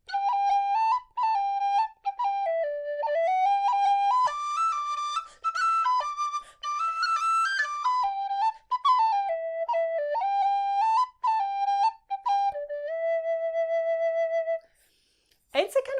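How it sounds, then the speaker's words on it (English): A Sondery tin whistle plays a lively melodic tune alone, bright and clear with quick ornamented runs and steady phrasing, ending on a long held note before a short break. "It's a kind of bright and chirpy little whistle."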